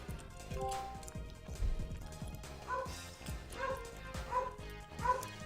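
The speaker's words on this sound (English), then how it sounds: "Oh, jeez, my puppy can't even shut up." A puppy yips, whimpers and barks in repeated short, high-pitched bursts close by, over background game music and sound effects.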